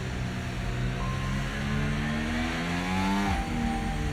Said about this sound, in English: this engine sound's got really loud again